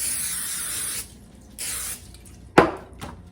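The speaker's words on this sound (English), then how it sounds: "I'm gonna lightly spray it with cooking spray." Two short hissing bursts of an aerosol spray, followed by a light clack of a can or pan being set down.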